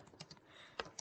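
Quiet keyboard typing while writing Python code: scattered, soft key clicks in short irregular bursts, faint and close, with no talking.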